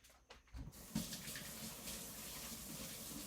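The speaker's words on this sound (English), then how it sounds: "I will wash my hands" Hands being washed under a running tap in a home kitchen: after a brief quiet start, a steady, soft stream of water splashes continuously until the end.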